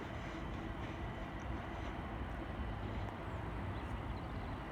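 A Class 378 train, unit 378-202, runs over a junction near Stratford, giving a faint, distant, continuous rumble and rattle with no distinct wheel beats standing out.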